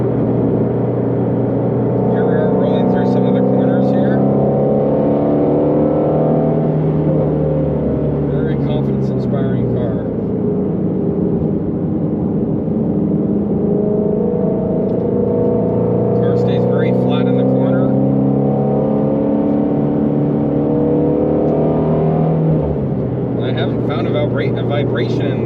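A 2020 Ford Mustang Shelby GT350R rolls through corners, its engine a steady droning cabin note that swells and falls with each turn, continuous and fairly loud throughout.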